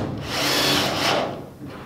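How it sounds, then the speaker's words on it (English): A power drill drives a tech screw into the steel body panel of a 1969 Ford Capri under restoration, a brief rising whine and grinding whirr lasting about a second, close and loud. "instead of drilling a hole, I'm just going to use a tech screw"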